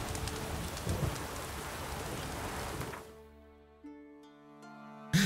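Steady rain falls in the Witcher 3 video game as a dense, even hiss for about three seconds, then cuts off to quiet tonal game ambience with a couple of soft thuds.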